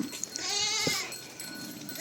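A goat bleats once, a close, wavering cry lasting about half a second, with faint outdoor background noise around it.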